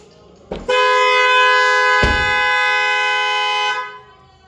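A car horn, fitted to sound on lock and unlock, gives one sustained, loud, steady blare for about three seconds, preceded and interrupted by short clicks and thumps as the car is locked.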